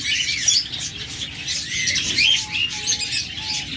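Lovebirds, cockatiels and budgerigars kept in cages for sale chirp and tweet continuously in a dense, busy chorus of overlapping high calls, fairly close and steady throughout.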